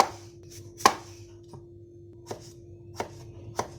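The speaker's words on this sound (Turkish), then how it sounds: "Patatesleri küp küp doğrayalım." Sparse knife chops on a cutting board, a handful of sharp close strikes spaced irregularly, with a faint steady hum beneath.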